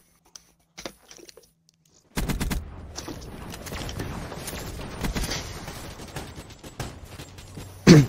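A rapid burst of game gunfire opens up in Black Ops 3 after a quiet moment with a few clicks, a dense run of crackling shots with a heavy blast at the very end.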